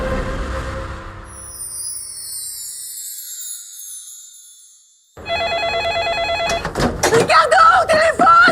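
A telephone bell rings loudly in a repeating electronic pattern after a stretch of fading music and a brief silence, close and dominant, in a Québécois satirical year-end comedy revue.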